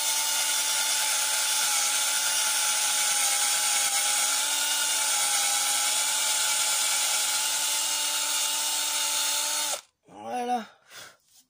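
A power drill bores holes in soft wooden slats for an embroidery frame, a loud steady whine running nearly ten seconds before stopping abruptly, followed by a brief burst of someone speaking.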